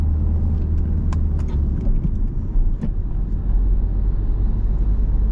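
A car pulls away after a shift into third gear during a driving lesson near a roundabout, its engine giving a loud, close rumble, a few short clicks and knocks over it, and no talk.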